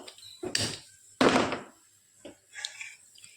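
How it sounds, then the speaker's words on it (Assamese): A metal kadai (wok) is set on a stove: two heavy clunks in quick succession, then softer knocks and light scrapes, close by. "এতিয়া কেৰাহীটো উঠাই লওঁ।"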